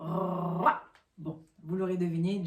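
A voice imitates a growling guard dog, producing a rough, low growl that rises into a short snarl, then a brief pause before a longer rumbling growl; French speech is mixed in.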